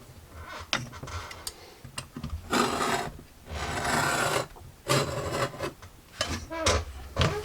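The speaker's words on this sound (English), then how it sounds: "I'm just honing my standing knife just to get rid of any nasty edges" A leather standing knife being honed makes close, rhythmic rasping strokes. Sharp scraping passes alternate with brief ticks and pauses, moderately loud and with no talking.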